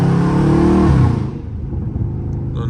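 A Dodge Charger Scat Pack revs while driving at night, a loud close engine roar climbing then dropping off as the throttle eases, leaving a lower rumble and road noise.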